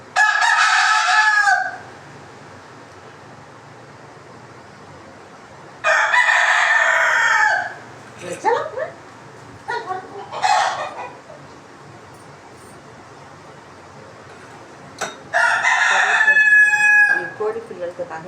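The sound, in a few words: chicken clucking and rooster crowing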